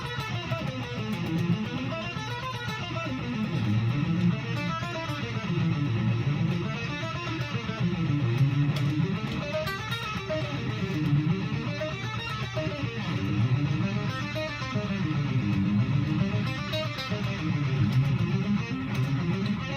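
An electric guitar plays a rolling triplet pattern that climbs in fourths and falls in fifths. The loud, sustained phrases swell and repeat in waves, with no talking.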